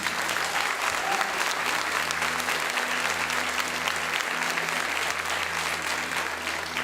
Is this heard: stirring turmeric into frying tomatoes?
no